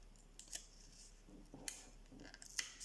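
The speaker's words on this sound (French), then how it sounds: "on coupe les petits carrés là" Scissors snipping small paper squares for an advent calendar box craft, giving a few soft, crisp cuts spaced apart, close but very quiet against a low background hum.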